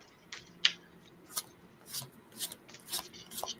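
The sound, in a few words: playing cards being shuffled briskly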